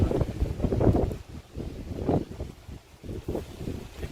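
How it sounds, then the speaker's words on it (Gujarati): Wind gusts buffet the microphone in rumbling surges that rise and fall, loudest early and again midway, with no voices. "મસ્ત જો પવન આવ્યો"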